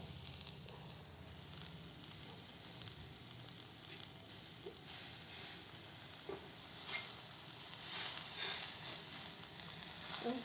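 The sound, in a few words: food sizzling on a grill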